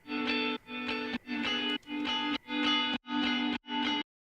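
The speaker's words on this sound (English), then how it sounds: "So just a lot of reverb, but it gives it like a somber sadness." Electric guitar chords strummed in a slow, even series of about seven bursts, each washed in heavy reverb and effects, ending in a sudden stop.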